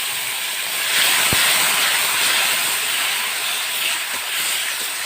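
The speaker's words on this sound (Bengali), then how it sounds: "অল্প একটু জল দিয়ে মশলাটা বেশ ভালো করে কষিয়ে নেব।" Spice masala of turmeric, chili and coriander powder sizzles steadily in a pan with a splash of water, a loud continuous hiss with one sharp tap near the start.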